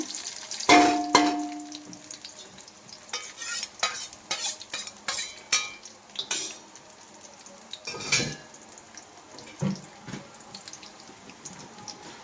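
Onions frying in oil for a chicken curry, with intermittent stirring scrapes and clangs of a spoon against the pan over a soft sizzle, the bursts coming in irregular clusters.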